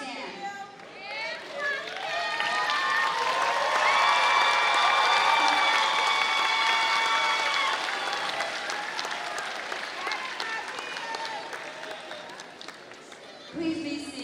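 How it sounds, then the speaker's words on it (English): Graduates standing at a 2019 college commencement ceremony in Chamblee applaud their families, a large indoor crowd's sustained clapping and cheering that swells, holds for several seconds, then gradually thins out, with a voice briefly heard near the end. "give applause for the sacrifices they have made for you"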